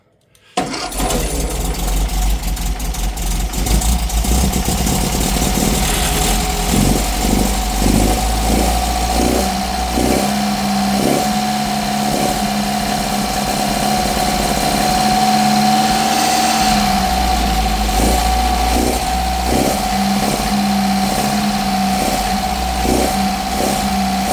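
A vintage MG VA engine with a replacement Powerlite alternator starts and settles into a steady close idle, with a rhythmic ticking pulse repeating over the running drone.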